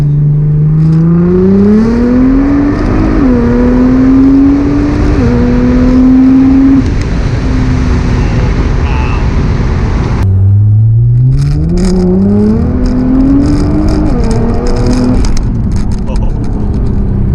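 Nissan GT-R R35 accelerating hard, its engine note climbing steadily through the gears with short shift breaks, then pulling up again after a brief lull; loud and close, with occasional voices underneath.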